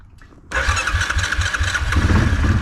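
A Kodiak engine with a suspected carburetor problem cranks and catches after a short quiet moment, then runs on at a loud, rough, uneven idle with a throbbing low pulse close by.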